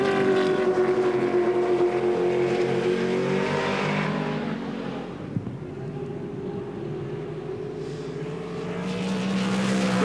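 V8 Supercars from the 2004 season race through a corner on light throttle at Eastern Creek, a steady droning engine note that rises and falls slightly as the cars pass, continuous and fairly loud.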